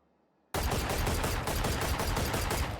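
Rapid automatic gunfire in the video game Valorant bursts in after a short silence, a dense, loud stream of closely spaced shots that runs steadily for over two seconds and cuts off at the end.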